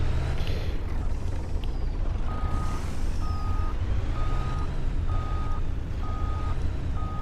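A truck reversing a trailer in Farming Simulator 19 gives off a steady series of evenly spaced reversing beeps over a loud, continuous diesel engine rumble, with no talking.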